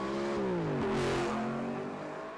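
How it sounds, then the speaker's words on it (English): Audi R8 with a new custom exhaust revs up in a rising howl, peaks, then drops away with a falling note, loud and alone. "The new exhaust is insane."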